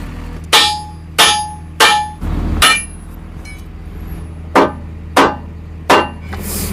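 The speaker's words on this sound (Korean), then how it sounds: "이 상태에서 망치를 좀 치면서" A hammer strikes a steel excavator part to knock it into alignment, seven loud ringing metallic blows in two spaced groups, each clang decaying quickly over a low mechanical hum.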